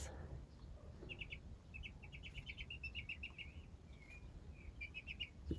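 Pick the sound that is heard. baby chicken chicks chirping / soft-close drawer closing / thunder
baby chicken chicks chirping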